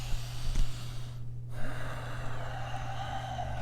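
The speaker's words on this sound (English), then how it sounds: "the most common breathing pattern that most people do when it comes to movements is a vertical up and down breathing" Steady, audible breathing in a demonstration of vertical up-and-down chest breathing, with sharp gasp-like inhales and snorting exhales close to the microphone, no talking.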